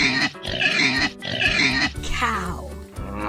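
A pig grunts and snorts in a few rough, close bursts, followed by a longer squealing grunt, with a short spoken word nearby.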